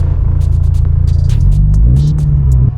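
Intake of a turbocharged car on a drive, miked up close, giving a steady, loud low rumble and throbbing drone that runs unbroken, with a few faint light clicks above it and no talking.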